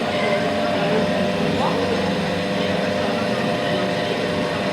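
A three-phase AC generator dynamo runs with a steady, loud mechanical hum and whir, continuous throughout, with faint speech in the background.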